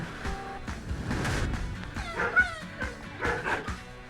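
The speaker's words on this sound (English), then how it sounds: "These dogs may be barking, but we'll tell you how Cache Humane Society is helping them de-stress." Several dogs bark and yip at an animal shelter, with sharp overlapping barks and a few whimpering whines, fairly close and continuous throughout.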